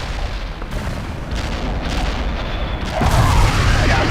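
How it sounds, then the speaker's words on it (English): Artillery barrage explosions in the war strategy game World in Conflict, a continuous rumbling roar of distant booms that swells louder in the last second, with no talk. "Artillery barrage inbound."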